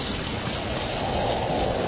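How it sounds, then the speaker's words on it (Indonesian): Heavy rain pours down steadily, a loud, dense, unbroken hiss of falling water with no breaks. "Hujan? Benar, kelihatannya semakin deras"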